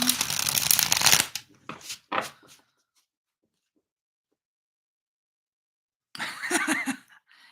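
Cards are shuffled by hand, a loud close riffling burst followed by a few short ruffles and taps, then silence and a softer shuffle at the end.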